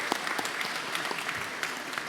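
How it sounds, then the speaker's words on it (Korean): A church congregation at a Sunday worship service applauds a children's Sunday school choir, a short, steady patter of clapping heard at moderate distance. "우리 다시 한번 격려와 칭찬의 박수 한번 올려드리겠습니다."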